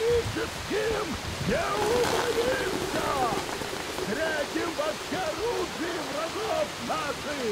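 Steady rain patters and hisses continuously in the video game Metro Exodus, with faint chirping calls scattered over the wash of falling water.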